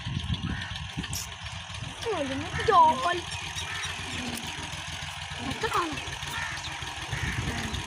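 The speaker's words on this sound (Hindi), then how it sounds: "यहाँ पे ट्रैक्टर आ रहा है।" A tractor engine chugs with a low, steady rumble as it approaches along a village lane, running throughout beneath voices talking nearby.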